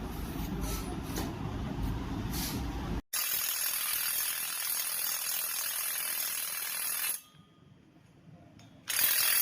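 A ratchet tightens the center bearing under a vehicle, giving a steady clicking mechanical rattle that cuts off abruptly partway through, followed by quieter shop noise and a hiss.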